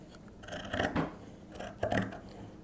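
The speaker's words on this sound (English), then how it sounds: "I'm going to take the scissors, and carefully I'm going to cut right down like this" Scissors snip through a fabric glove close up, a few crisp crunching cuts in two clusters with quiet pauses between, no talking.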